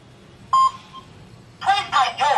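Keypad tones from a wireless 433MHz GSM alarm system as a password is entered: one short beep, a pause, then a quick run of three loud tones, close and clear over a quiet background.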